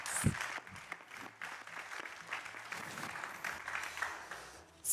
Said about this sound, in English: we should just start by giving them a hand of applause to start off the session